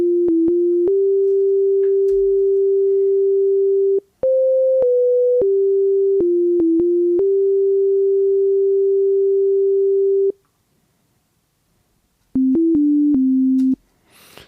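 A plain synthesized melody of pure sine-like tones steps through sustained notes with short jumps, stops, then resumes with a few quick notes.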